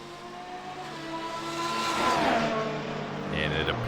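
Race cars in the F1 Challenge video game, stacked up behind the safety car at Monza, give a continuous droning engine whine that rises and falls in pitch, with a brief tire squeal and a voice talking underneath.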